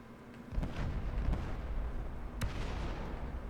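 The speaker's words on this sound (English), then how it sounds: "there's some explosions going on out there" Explosions boom outside a ship in the Star Citizen video game, a few muffled, heavy blasts with low rumbling tails heard from inside, one sharp crack standing out near the middle.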